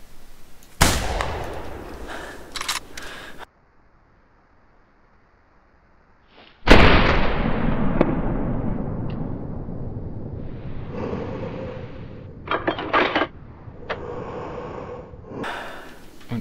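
A loud rifle shot in the hunting video game The Hunter 2013 cracks and booms, its echo rolling away slowly, followed by quieter clicks and rustles of handling.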